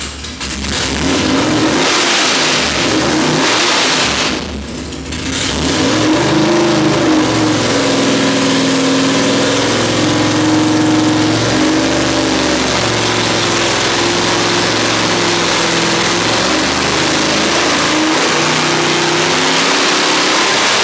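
A 540 cubic inch big block Chevy engine revs loud and close on a dyno, rising through long sustained pulls with a brief dip near the start, and no talking over it.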